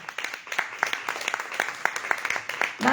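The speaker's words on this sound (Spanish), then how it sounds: "damos un aplauso a Dios" A church congregation claps together after a psalm reading, producing a steady patter of many hands at moderate volume that swells slightly at the end.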